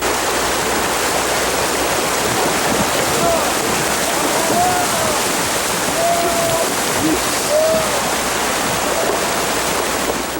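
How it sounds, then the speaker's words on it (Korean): Jukdo waterfall, a 15 m artificial falls cut through a mountain to join the Geum River, roars as a dense continuous rush of water, steady and loud throughout, with faint tonal chirps rising briefly above it. "죽도 폭포는 지류인 구리항천의 중간 부분 산을 뚫어 금강 본류와 곧게 연결시킴으로써 생겨난 낙차 15m의 거대한 인공 폭포이며"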